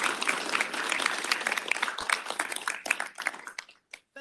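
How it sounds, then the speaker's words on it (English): An audience applauds in steady, dense clapping that thins out and tapers to a few scattered final claps. "I want us to give a round of applause for her"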